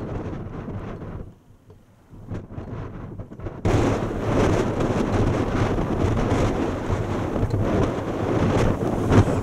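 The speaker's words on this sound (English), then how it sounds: "As I walked on, the wind was becoming stronger" Strong wind blusters across open, bleak moorland in the Peak District, a loud continuous roar buffeting close to the microphone, briefly easing before surging back harder and steady.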